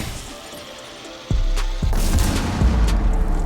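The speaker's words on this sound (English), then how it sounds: "the grenades tend to destroy the Wamai discs fairly far away" Grenades in Rainbow Six Siege blast with sharp, heavy booms, a couple of punchy explosions in quick succession followed by rumbling debris and crackle as Wamai discs are destroyed.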